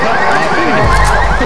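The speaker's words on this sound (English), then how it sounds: "Some car alarm went off." A car alarm in the zombie shooter game Left 4 Dead wails over busy game audio, its rising and falling warble carrying on loudly throughout with a low rumble joining midway.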